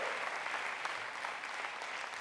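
Church congregation applauding and cheering in acclamation during a French-language sermon, a dense continuous wash of clapping with scattered shouts, steady and fairly loud.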